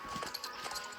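Horse hooves clip-clopping in an equestrian role-play video game, a steady run of quick, close hoofbeats at moderate level with a busy background and no talk.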